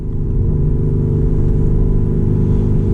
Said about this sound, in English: Now the car is the loudest. We can hear the exhaust and the engine much better.